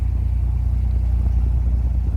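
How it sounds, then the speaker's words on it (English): A Citroën 2CV engine runs steadily close by, a deep, boomy low rumble that holds an even drone without letup and sounds alone, with no talk over it. "Nice boomy engine."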